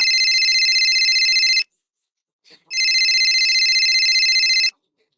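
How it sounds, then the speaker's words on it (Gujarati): A telephone ringing at home, with two long electronic ring bursts separated by a short silence. The tone is loud, close and continuous within each burst, and no one talks over it. "ફોન વાગે છે કયું નો ઉપાડો"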